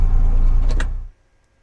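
An electric wireless power tilt motor on a 2003 18ft tilt bed trailer whirs steadily for about a second, close and fairly loud, then cuts off abruptly into near silence.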